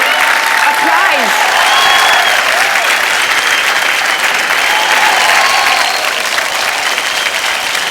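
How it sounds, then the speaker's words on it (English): A large studio audience at a Ranveer Singh show bursts into loud, continuous applause and cheering, a thick wall of clapping with brief whoops, steady for the whole stretch. "Applause."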